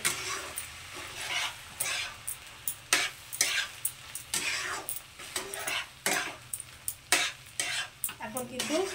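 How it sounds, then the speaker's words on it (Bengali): Spoon scraping and stirring through curd rice in a pan over low gas, with repeated close scrapes and clinks in an irregular rhythm over a soft background sizzle; no talking. "এবার এটাকে খুব ভালো করে মিশিয়ে দেবো এটার সঙ্গে"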